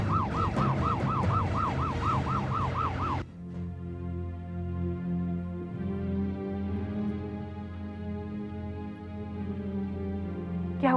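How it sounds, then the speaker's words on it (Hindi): An ambulance siren wails loudly in a rapid, repeating up-and-down pattern for about three seconds, then cuts off abruptly, leaving a low, steady background hum in a TV drama scene. "अरे कोई एम्बुलेंस को बुलाओ।"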